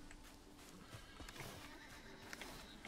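A horse in the Valheim video game, a three-star splitting lightning-infused creature, whinnies amid clip-clopping hooves and game noise, heard faintly in a busy mix.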